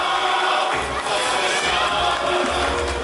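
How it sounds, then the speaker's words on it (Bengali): A crowd at a Lake Town magic show claps and cheers loudly in a dense, continuous wash of noise with a few thumps, filling the hall without pause. "একবার জোরে হাততালি হয়ে যাক আমাদের দেশের জন্য।"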